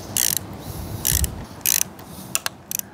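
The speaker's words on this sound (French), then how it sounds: "C'est l'étape serrage au couple." A torque wrench tightens the handlebar bolts on a Cyrusher Trax 2.0 fatbike, giving several close bursts of rapid ratchet clicking followed by a few sharp single clicks, with no talking.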